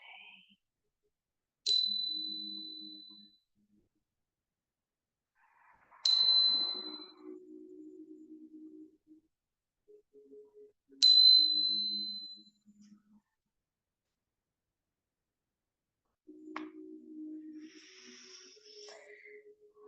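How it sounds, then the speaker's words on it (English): Meditation bells ring out three times at even intervals, each a bright clear strike with a sustained fading tone, followed by a softer final chime, separated by near silence with faint low murmuring sounds between. "as you begin to hear the sound of the bells"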